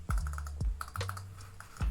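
A mechanical keyboard fitted with Cherry MX Brown switches clacks under quick typing, a close, crisp run of keystrokes with a few heavier thocks, with no speech.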